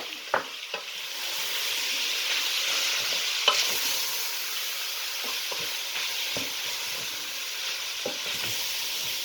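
Chopped onions, chilies, garlic and ginger sizzling in a pan for a balti curry, a loud, even frying hiss with occasional sharp stirring clicks and scrapes, close up and free of talk.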